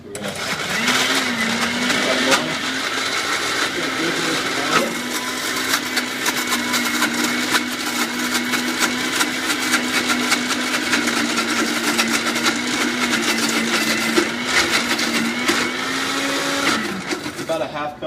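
A blender purees an herb and garlic mixture for a crusted salmon, roaring loud and steady for the whole stretch with a constant motor hum.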